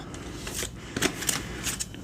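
Quick bursts of tarot cards being shuffled, a few ruffling flurries close by with brief pauses between them.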